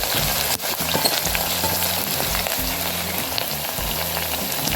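Goat meat frying in a pan as tomatoes go in, a loud continuous sizzle with rhythmic scraping and stirring strokes, close and dense throughout, with no talking.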